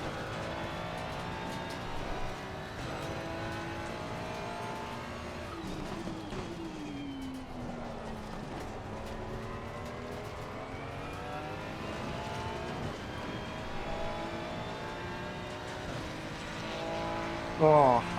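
Race cars lapping Oulton Park in the racing game Assetto Corsa Competizione, engines droning and rising through gear changes, with a voice talking quietly over the steady track noise.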